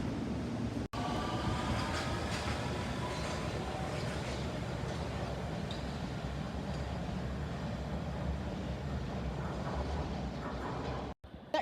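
A London Underground train pulls out of the station with a loud, steady rumble of wheels and motors that fills the whole stretch, fading only briefly at the very end.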